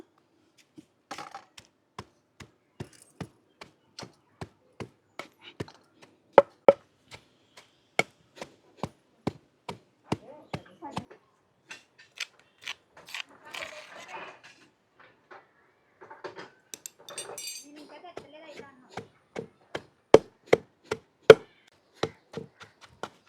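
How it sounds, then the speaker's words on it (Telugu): Raw garlic, peanuts, turmeric, salt and tamarind pounded by hand for moringa leaf spice powder, a steady run of sharp, close thuds, evenly spaced with brief pauses, no talking. "ఇవన్నీ వేసేసుకొని వీటిని కూడా మంచిగా దంచేసుకుందాం"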